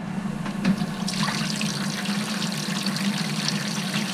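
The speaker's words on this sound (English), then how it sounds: "Nice clean water coming out of there." Water pump fountain pouring clean water into a Tupperware bin, a steady splashing trickle with a constant low pump hum underneath, close and continuous.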